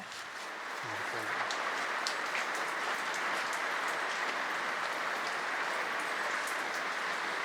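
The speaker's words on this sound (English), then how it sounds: "We're just in the middle of doing the harvest, and it's absolutely bucketing down." Heavy rain pours down during an olive harvest on an off-grid homestead, a dense and steady hiss that runs throughout, loud and close, with a brief low voice near the start.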